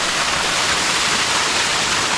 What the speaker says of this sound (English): It drops from all the way up there, 40 foot, then it cascades all the way down.